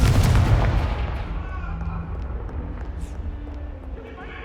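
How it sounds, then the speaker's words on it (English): Confringo fire spell blasts in the video game Hogwarts Legacy: a loud booming explosion opens, then rumbles and fades over several seconds, with a faint voice under the tail. "Confringo!"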